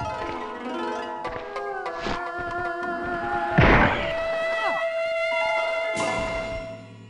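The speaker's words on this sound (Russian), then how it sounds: "Стрельнем из винтовочки." A single rifle shot in the PS1 video game Hogs of War lands as one sharp, heavy burst partway through, over sustained tonal game music and a few lighter thumps.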